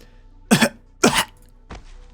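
Two sharp coughs close together, followed by a fainter third, from a character in the game Arknights, heard up close with nothing else around.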